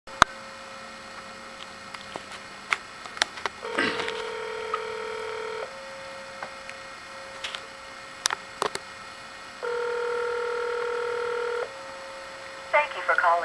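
Touch-tone telephone keypad dialing, with a string of short DTMF beeps and two longer tones over a steady mains hum, plus scattered clicks.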